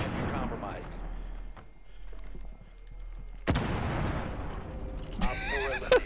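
A grenade goes off in Rainbow Six Siege with a sudden loud, close blast and a rumbling tail, followed by a bright game sound, while players talk around it.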